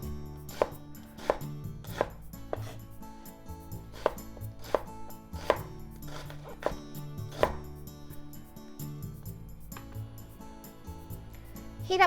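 A knife chops pork and ginger on a cutting board for Japanese shogayaki, with a dozen crisp, evenly spaced cuts over steady background music.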